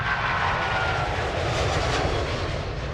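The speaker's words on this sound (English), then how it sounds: "The Boeing 777 is the world's largest twin-engine passenger jet." Engines of a Boeing 777 twin-engine passenger jet roar in a steady, loud, continuous drone with a deep rumble beneath a broad rushing whine, with no voices.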